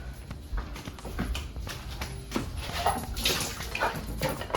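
Cooked beans being drained, water splashing and pouring unevenly with irregular knocks and sloshes, close and fairly quiet.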